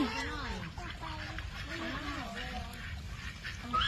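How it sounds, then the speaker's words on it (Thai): Ducks playing in water in a garden, giving a few moderate quacks over a steady outdoor background with no talk. "เดี๋ยวเป็ดก็จะได้เล่นน้ำให้เราดูนะคะ"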